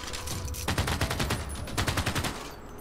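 Machine gun fire rattles in rapid sustained bursts during a Civilization 6 battle, loud and dense with a brief pause, then another string of quick shots over a low rumble.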